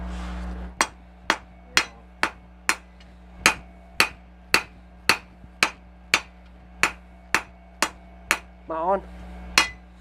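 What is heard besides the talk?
hammering metal flat while making a knife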